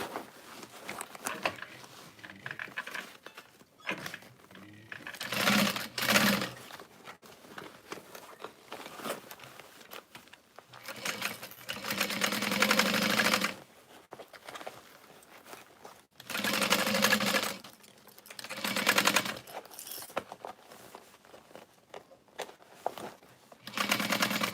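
A sewing machine stitches a backpack in repeated bursts, its close whirring runs starting and stopping several times with quieter pauses between.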